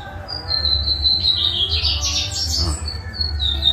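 A lined seedeater (bigodinho) sings close by with high, fast chirps and warbled trills that run almost without a break over a low background hum.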